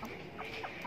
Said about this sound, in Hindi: छोटी ही छोटी मुर्गी हैं माशाल्लाह। ये अंडे दे रही हैं, ब्रीड कर रही हैं